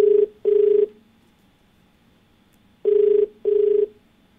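A phone line ringing as a call-in TV program dials a viewer, giving two loud, close double-ring bursts separated by a pause of silence.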